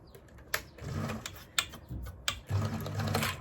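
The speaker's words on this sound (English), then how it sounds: "So now all I need to do is just sew this closed" A sewing machine stitches a dog cushion closed with a steady mechanical whirr. Sharp clicks break it up before it runs on in short bursts, close by.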